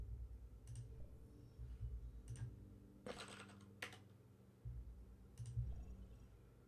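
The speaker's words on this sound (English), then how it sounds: "this was just typing in garbage at the password prompt" Computer keyboard keys tapped in short irregular bursts while garbage is entered at a password prompt, crisp clicks close to the mic over a faint low hum, with brief pauses between flurries.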